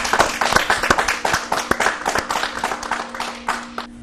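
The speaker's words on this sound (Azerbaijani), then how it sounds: "Alqışlar gəlsin Rahid üçün." Small school audience at a tongue-twister contest between village secondary schools in Quba, clapping in a brisk, close round of applause for a contestant, with individual claps audible throughout.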